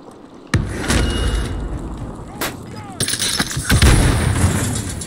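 Gunfire in a multiplayer shooter match, with sharp shots and bursts spread across the clip under busy game noise and player chatter.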